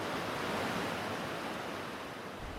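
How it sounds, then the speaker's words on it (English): Gravity-fed water from the Tellico River flows through trout hatchery raceways in a steady, dense rushing wash, loud and continuous with no breaks. "the water that you're seeing run through these raceways behind us is gravity fed from intakes from the Tellico River"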